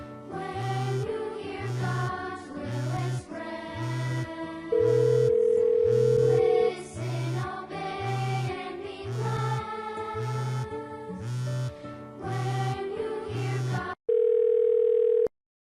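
A telephone call tone plays within a video excerpt about a mother declining a call, a steady pulsing ring repeated many times over a rhythmic musical backing, with two long flat beeps, loud and without talking.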